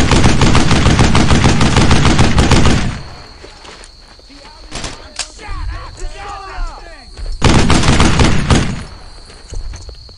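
Loud automatic gunfire from Brothers in Arms: Earned in Blood, two long dense bursts of rapid shots with a lull between them, single thuds and distant chatter filling the gap.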